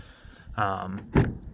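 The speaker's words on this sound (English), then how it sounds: "When it closes, it all rattles." A car door closes and rattles loosely because its sound-deadening material was left out, a short creak followed by a close, hollow thunk with a rattle in the panel, surrounded by brief quiet talk.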